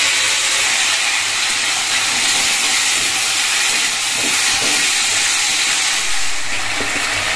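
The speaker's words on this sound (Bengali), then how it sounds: "আলুটা লাল লাল করে ভাজা হয়ে গেছে। এবার দিয়ে দিলাম মশলা।" Spices added to potatoes frying in a pan for a cauliflower and bori dish, producing a loud, steady, hissing sizzle that continues evenly throughout.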